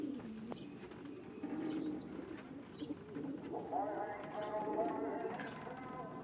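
Pigeons coo and stir inside an Adana-style coop, low bird calls running steadily while someone talks over them close by.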